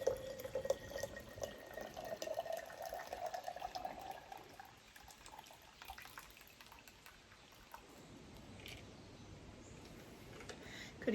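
Water pours steadily into a glass jar for an herbal infusion, the tone rising as it fills, then tapers off to quiet trickles and a few drips.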